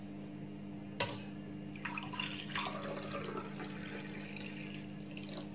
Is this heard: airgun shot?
no